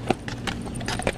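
Hooves of award-winning parade horses clip-clopping on pavement while pulling a wagon, steady nearby rhythmic footfalls with no talking.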